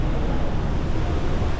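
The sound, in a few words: powerful waterfall thundering through mountain caves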